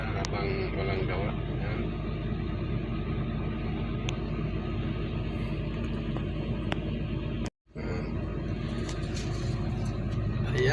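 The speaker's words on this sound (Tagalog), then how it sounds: "warm up ko lang yung unit kasi mahirap pag hindi winarm up ito eh" A vehicle engine warms up at idle, a low, steady rumble that runs continuously, drops out for a moment, then resumes at the same level.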